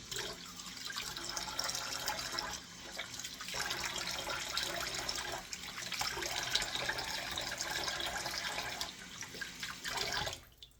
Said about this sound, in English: I'm just going to do a quick rinse.